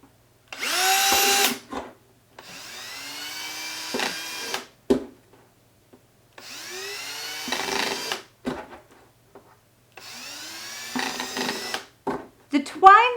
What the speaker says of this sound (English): just make sure that you drill holes that are big enough for your twine